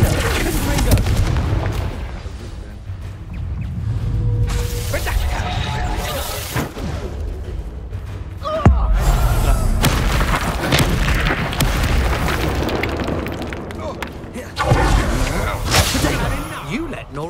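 Confringo blasting spells in the Hogwarts Legacy video game, a string of booming explosive blasts and whooshes over continuous combat noise, with a character shouting spell names between them.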